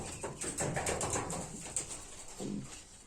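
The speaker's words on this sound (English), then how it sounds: "Pigeons are on top of my garage." Pigeons coo on a garage roof outdoors, soft repeated low calls, fairly faint and distant, with no talking.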